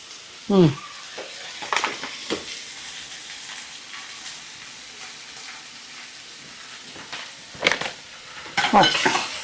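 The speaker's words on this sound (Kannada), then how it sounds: "ಇದೆಲ್ಲ ಇವಾಗ ಆಲ್ಮೋಸ್ಟ್ ಮೆತ್ತಗಾಗೋ ತನಕ ಫ್ರೈ ಮಾಡ್ಬೇಕಲ್ವಾ?" Beetroot pieces fry softly in a pan for chutney, a low, steady sizzle punctuated by a few sharp spatula knocks and scrapes against the metal, with a cluster of clatters near the end.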